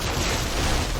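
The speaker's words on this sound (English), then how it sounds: "These turrets make a lot of noise" Automated turret gunfire in the video game 7 Days to Die, a dense, continuous burst of loud, booming shots with no gaps over about a second.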